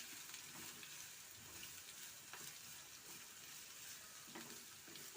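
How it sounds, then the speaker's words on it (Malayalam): Chopped jackfruit leaves stir-fried in a pan, a soft continuous sizzle with light scraping strokes of a spoon, steady and fairly quiet throughout, with no talking. "ഇനി ഇതിലേക്ക് അരിഞ്ഞു വെച്ച പ്ലാവില ചേർത്ത് കൊടുക്കാം. അതൊന്ന് മിക്സ് ചെയ്ത് കൊടുക്കാം."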